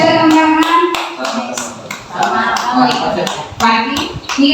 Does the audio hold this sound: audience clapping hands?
yes